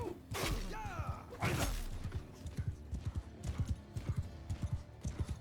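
A horse gallops in Mount & Blade II: Bannerlord, its hooves clip-clopping in a steady quick rhythm, close and loud, with a neigh near the start and clashing battle noises.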